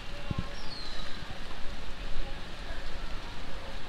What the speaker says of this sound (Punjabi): ਬਾਰਿਸ਼ ਹੋ ਰਹੀ